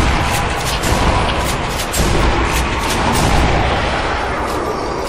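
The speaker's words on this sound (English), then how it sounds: "Grenade out." Grenade blast amid heavy gunfire in Sniper Elite: Nazi Zombie Army 2, a loud, dense barrage of booms and rapid shots crowding the whole stretch with no letup.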